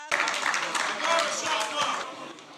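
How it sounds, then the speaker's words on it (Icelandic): A parliament chamber breaks into applause and cheering as a law is passed, dense clapping from a large crowd filling the room with voices mixed in, loud and continuous throughout. "Fagnaðarlæti brutust út á þinginu þegar lögin voru samþykkt."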